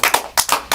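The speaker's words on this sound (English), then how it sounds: "You clap when I stop." Audience clapping in unison during a sung John Henry folk song, roughly five sharp, evenly spaced claps in a steady rhythm, close and clear, with no singing between them.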